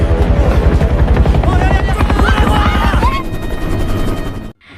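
Helicopter rotor blades thump in a rapid steady beat, loud and close, while voices talk over the noise before it cuts off abruptly.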